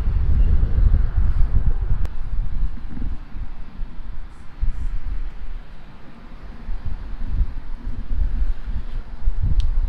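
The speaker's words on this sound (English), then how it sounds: "It's super windy out here." Strong wind blows outdoors at a supercar lot, buffeting the microphone with a steady low rumble and gusts that rise and fall throughout.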